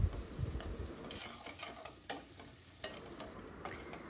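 Crushed ginger, garlic and curry leaves sauté in a pan with a soft, steady sizzle, punctuated by occasional sharp clicks of a utensil stirring against the pan, all quiet and close.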